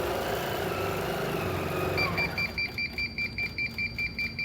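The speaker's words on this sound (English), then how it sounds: "that beeping noise, and the light also goes red so you can see it" A sewing machine gives a warning alarm: a quick series of evenly spaced, high electronic beeps that starts after a low mechanical hum fades out.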